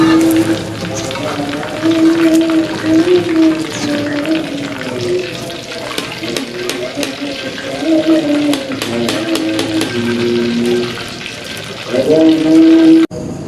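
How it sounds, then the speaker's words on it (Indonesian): Tofu fries in hot oil with a steady, close crackling sizzle that swells briefly louder near the end. "Habis goreng tahu, kita mengocok telur dulu."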